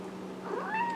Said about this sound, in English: And there's a cat.